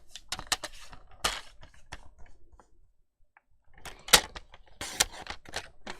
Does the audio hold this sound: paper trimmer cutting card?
yes